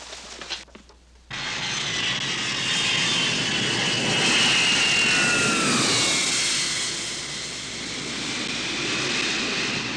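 A jet airplane roars at an airport, starting abruptly after a moment of quiet and holding a loud, steady engine whine and rumble that swells slightly mid-way before easing.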